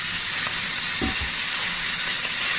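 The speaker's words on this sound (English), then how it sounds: "Next, we're going to put in the pork, sausage, and the pork loin" Pork sausage and pork loin frying in a pan, giving a loud, steady sizzle with a brief clatter of the meat going in near the start; no talking.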